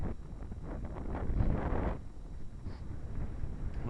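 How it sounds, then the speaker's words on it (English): Strong wind buffets and rumbles against the microphone in gusts, a low roaring rush that swells and eases without any voices. "still plenty windy."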